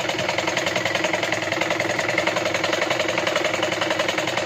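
Sewing machine running steadily while stitching straight seams on blouse fabric for a princess-cut blouse, a continuous close mechanical whir with a fast even rhythm throughout.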